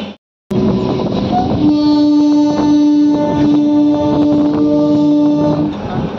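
A local train on the Bankura line pulls into Kumdul station, a loud sustained horn blaring over rumbling wheels and carriage noise, heard up close and continuous for several seconds.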